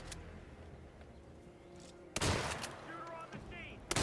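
ENRAMHV submachine gun bursts in Hitman 3, two loud close volleys of rapid shots separated by a pause, with brief metallic clinks afterward over a low background hum.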